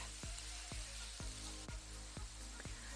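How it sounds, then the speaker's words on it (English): Onions and mushrooms sautéing in a pan give a constant faint hiss and sizzle, with a regular low thump recurring about twice a second underneath. "let's just saute this for a couple of minutes until it softens"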